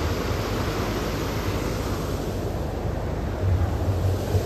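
Water flows steadily at Patal Ganga in Khopoli in the rain, a dense, continuous rushing roar heard close and loud throughout, with no voices.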